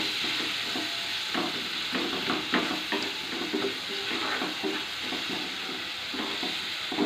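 Ground coriander, cumin, chili and turmeric sauté in a pan for egg curry, giving a soft continuous sizzle with faint scraping stirs throughout, low and steady with no talking.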